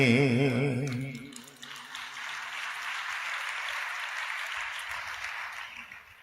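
A church congregation claps together during Tamil worship singing, a broad sustained wash of applause that follows a sung note and holds steady at moderate loudness to the end.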